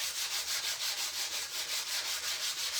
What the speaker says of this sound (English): It's my small sanding sponge.